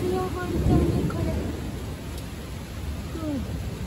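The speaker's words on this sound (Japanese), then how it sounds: "恐ろしい降り方してますけど、これ風も強い、雷鳴ってる。" Heavy thunderstorm rain with strong wind pours over a balcony vegetable garden, a constant dense rushing hiss that stays loud and close, with a brief faint voice-like sound near the start.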